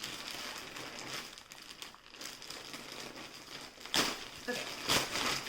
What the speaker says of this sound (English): There's an inner bag and it's ripping because I'm trying to open the outer bag